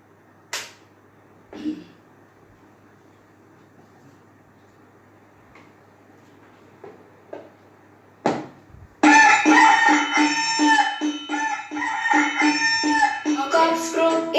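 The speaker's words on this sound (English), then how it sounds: "Cocks crow in the morn to tell us to rise" A rooster crows loudly several times over a faint quiet background, with a few brief clicks and knocks before the first crow, played as an audio recording for an English rhyme lesson.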